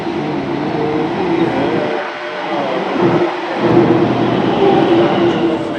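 A metro train rumbles through a station with a loud, continuous roar and heavy low-end noise, steady and close throughout with no talk.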